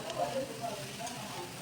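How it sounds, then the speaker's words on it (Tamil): Cauliflower and onions are stirred in a frying pan, a brief, quiet scraping with a soft sizzle underneath. "அதுக்கப்புறமா எடுத்து வச்ச அந்த காலிஃப்ளவரை அதில் போட்டு நல்லா கலந்து விட்டுக்கலாம்"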